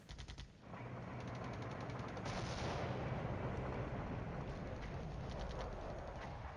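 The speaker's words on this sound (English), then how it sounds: "we're still dropping artillery on there" Artillery fire in the Cold War video game Flashpoint Campaigns, a few sharp reports followed by a sustained, dense roar of continuous bombardment, loud and unbroken, with no speech.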